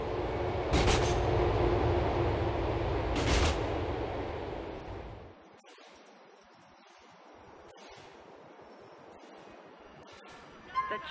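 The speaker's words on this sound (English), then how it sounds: "The train is approaching Schottler Station." A subway train in the GTA IV video game rumbles along with a loud steady roar and a couple of bursts of hissing clatter, then drops to a quieter hum with faint clicks as it slows.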